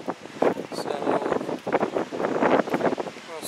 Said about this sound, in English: it's still cloudy, windy, and some rain off and on, sporadic rain